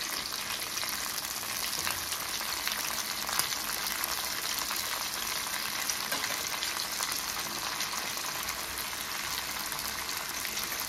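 Chopped onion, mint and fenugreek leaves fry in hot oil in a pan, giving a dense, steady sizzle with crackling pops that stays even and close for the whole stretch.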